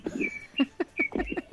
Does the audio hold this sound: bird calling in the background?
yes